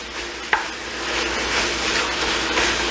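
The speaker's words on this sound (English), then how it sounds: "let's go ahead with our ground beef. All right, so what you're gonna do is you're gonna get this all nice and browned." Ground beef browning in a pan for chili, a steady close sizzle and frying hiss with occasional stirring scrapes and one sharp clack, no talking.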